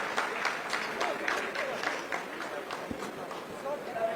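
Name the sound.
applause by ISRO scientists during Chandrayaan-3 landing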